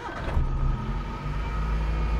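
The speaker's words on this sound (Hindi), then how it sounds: "क्रैंक करके देख लेते हैं इसका इंजन का साउंड" A Suzuki Cultus engine, converted to run on CNG and petrol, turning over and running at a steady, loud idle close by, with a low continuous drone and no talk.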